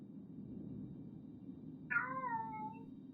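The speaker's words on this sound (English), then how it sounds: "Please ignore the cat." A spoiled indoor cat shut out of an office lets out one loud, drawn-out meow partway through, over a steady low hum with no talking.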